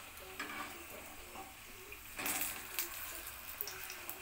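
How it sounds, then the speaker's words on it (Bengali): A vegetarian potato Mughlai paratha fries gently on low heat, giving a soft, steady sizzle with a few brief crackles and a louder burst partway through. "হালকা আঁচেতে খুব আস্তে আস্তে ভাজতে হবে"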